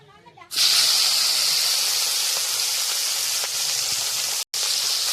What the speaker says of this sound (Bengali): তেল গরম হয়ে গেছে, দিয়ে দেব মাছ, অল্প অল্প করে দেব।